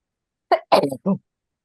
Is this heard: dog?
no